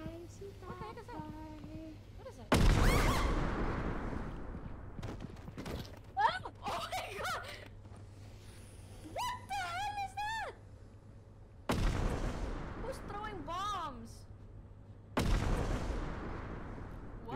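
Bomb explosions in the co-op horror video game Content Warning, several loud broadband booms at intervals amid game sounds, with whistling tones and voices talking in between.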